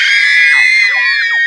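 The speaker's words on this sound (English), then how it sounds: "The screams from the kids like from the dream" Children scream in a dark house during a power cut in an animated story. The high, piercing shrieks are loud and close, with wavering pitch that slides downward, and there is no talk.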